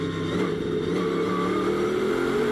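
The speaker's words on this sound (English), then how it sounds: "On board here, you can just hear all that rubber flying up against the inner fenders." Onboard a race car at speed, a loud steady engine drone fills the cabin while rubber debris from worn tires patters against the inner fenders, continuous and close without breaks.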